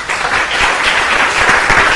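A church congregation claps for the Lord in a loud, dense burst of applause that stays steady for two seconds.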